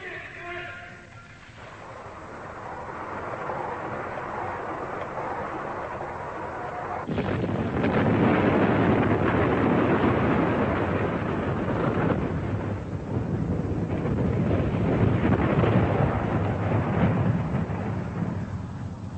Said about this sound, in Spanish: China hizo estallar su primera arma nuclear